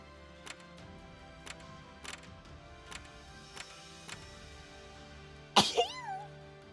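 One sudden, loud sneeze bursts out close by after a stretch of faint, scattered ticks and clicks, with a short breathy tail afterward during a video game session.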